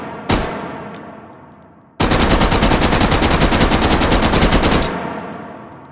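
An MP34 submachine gun in the VR shooter H3VR fires stabilized: a single shot near the start, then a loud, sustained automatic burst of rapid, evenly spaced reports lasting about three seconds before cutting off into a fading echo.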